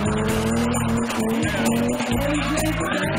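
BMW M5 and BMW 3 Series race cars tear through a wet circuit in the rain, engines roaring loud and close with tires squealing and skidding throughout.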